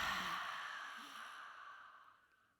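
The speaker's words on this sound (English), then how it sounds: "tongue comes out, and exhale" A lion's breath yoga exhale with the tongue out: one long, forceful breathy whoosh from the open mouth, close and fairly soft, fading out gradually over a couple of seconds.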